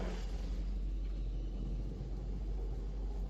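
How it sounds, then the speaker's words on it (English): A steady, loud low rumble from a car wash with a constant wash of noise, like machinery running continuously nearby, with no breaks or speech. "Probably a bad idea to do this while your car is being washed."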